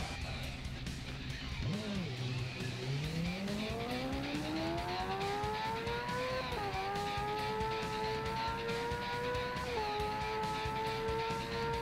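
A motorcycle engine in the racing video game Ride at full throttle, a steady loud whine that climbs in pitch through the gears with short dips at the shifts and a brief blip near the start.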